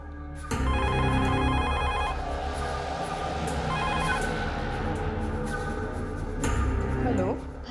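A landline telephone rings in a Hindi crime drama scene, a loud repeating electronic ring in bursts, with brief voices and a click near the end as it is picked up.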